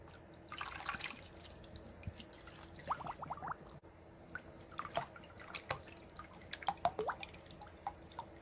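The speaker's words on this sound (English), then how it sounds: "Let's add some water." Water is poured into a container to submerge a figure, giving close, irregular dripping and trickling splashes that continue steadily throughout.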